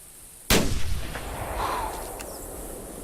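One loud hunting rifle shot in the video game The Hunter Classic cracks suddenly out of quiet ambience, followed by a long rolling echo that fades across the open landscape.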